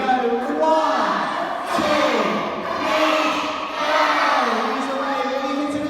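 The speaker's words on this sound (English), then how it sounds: "We're going to shout 1, 2, 3, and then shout go." An audience at a sea-lion show shouts a loud countdown together and then a final "go," a dense crowd of voices rising and falling in unison over several seconds.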